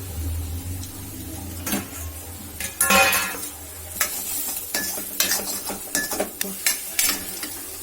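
Egg puff masala frying in a pan on a low flame, a soft sizzle under repeated spoon scrapes and metallic clinks against the pan, close and intermittent.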